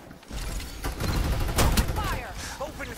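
Rapid bursts of gunfire in the video game Farlight 84 crackle loudly alongside mechanical clicks and whooshing effects, with a voice speaking over the fighting.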